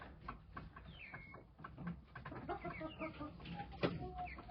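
Several chickens, including cuckoo-patterned birds, cluck and murmur nearby in an irregular chorus, with occasional higher squawks among the low clucks.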